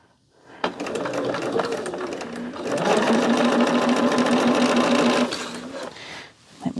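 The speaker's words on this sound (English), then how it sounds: "put them together like this and nest the seams and sew them together" A sewing machine stitches quilt pieces for a Christmas quilt. Its steady whirring run is loud and close, and it swells into a stronger, faster stretch before winding down.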